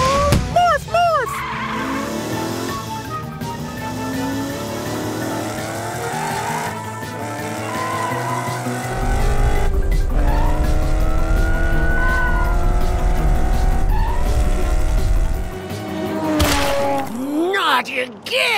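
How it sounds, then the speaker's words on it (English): A cartoon race car revs and races with repeated squealing tire skids, a loud close engine whine rising and falling over a low rumble, with brief shouts and voices at the start and end. "Morph into a race car so we can catch Orphle"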